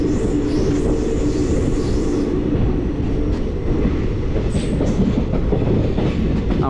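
Tambaram Mangalore Express running on rails with a steady rumble and rhythmic wheel clatter, close and continuous, with faint high squeals.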